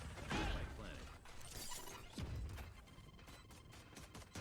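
Glass shattering in a shooter game as a thrown item smashes through a pane, a loud crash with scattering shards, followed by further clattering debris and a second burst of breaking.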